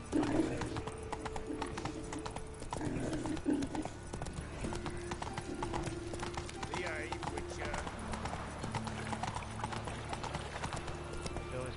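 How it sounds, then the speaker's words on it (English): Horse hooves clip-clop steadily in The Witcher 3 as the mount moves along, with a neigh partway through, all running beneath continuous talking. "Whoa there, Roach"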